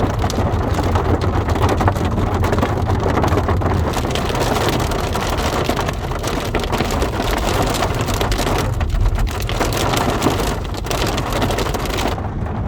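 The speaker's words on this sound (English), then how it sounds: "Wow, this is a lot of rain, man." Heavy rain pours down steadily and loudly on a farm in Portugal, blowing sideways, with low rumbling thunder rolling beneath the downpour throughout.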